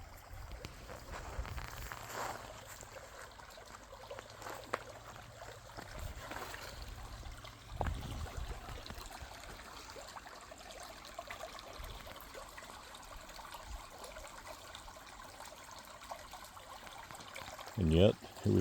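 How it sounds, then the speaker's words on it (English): Water trickling and running through a mostly dry creek bed, a steady broadband babble heard close and continuous for the whole stretch, with a few louder splashes and a sharp bump near the end. "there's still a good amount of water running through this area"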